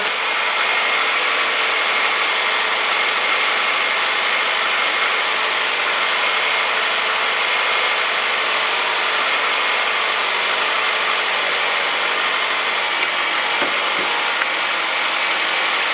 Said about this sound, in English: that new alternator's in. We're just gonna go ahead and test it, make sure it's charging correctly.